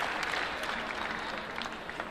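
Spectators at a smallbore rifle championship final clap in a steady, fairly soft round of applause, with a few sharper claps standing out from the sustained patter.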